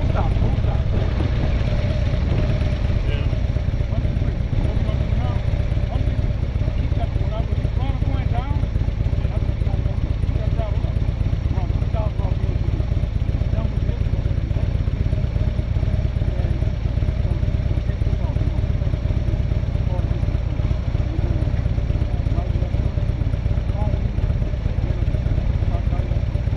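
A motorcycle idles and is throttled gently during slow-speed skill practice, a steady loud engine drone with low clatter throughout, close by and continuous.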